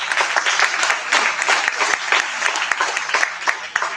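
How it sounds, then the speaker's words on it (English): Seminar audience clapping for themselves, a loud, dense round of many hands that stays steady throughout with a few sharper individual claps standing out. "Clap for yourself."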